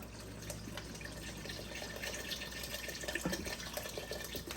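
A steady, soft stream of water pours continuously into a pot, with faint trickling and no talking.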